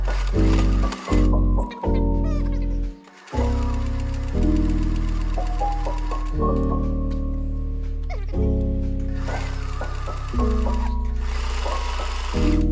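Sewing machine stitching fur onto a fabric crown in bursts of rapid mechanical whirring, loud and close, with short pauses between runs.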